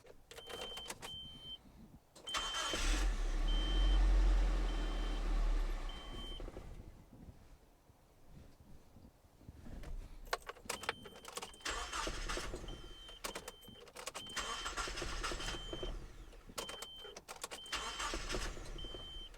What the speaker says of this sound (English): So now we can start our engine up